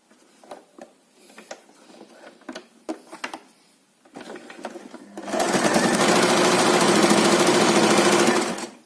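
A sewing machine stitches the seam of a small square multipurpose fabric bag, running in a loud, steady burst for the last few seconds after quieter handling noises and light taps.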